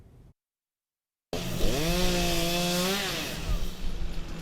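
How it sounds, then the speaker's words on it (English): Chainsaws clear storm damage on town streets, a brief cut of faint noise, silence, then a loud close engine whine that revs up and holds a steady pitch with rising and falling tones, with no voices. "the people out wielding chainsaws and construction equipment are cleaning instead of building"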